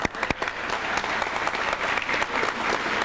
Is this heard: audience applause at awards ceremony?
yes